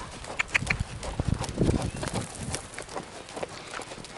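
Hoofbeats of the horse Miramis under a rider in a riding arena, a steady rhythmic clip-clop of a canter at moderate distance, with faint background noise throughout.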